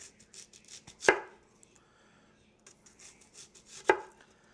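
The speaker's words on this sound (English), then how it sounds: "we're just going to cut it thin enough that it can caramelize pretty quickly on the grill" A knife slices vegetables thin on a board for a Tex-Mex Philly cheese steak, with rapid light cuts broken by two loud, close chops.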